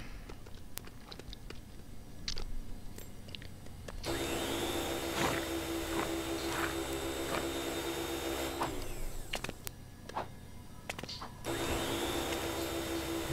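A neighbours' vacuum cleaner running on a Sunday morning, heard as a steady broadband whine that starts abruptly, cuts out for a few seconds, then starts again, loud and continuous with no talk.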